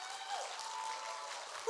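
Steady applause from an audience at a cosplay show honoring the performers, a dense wash of clapping holding evenly throughout with no voices over it.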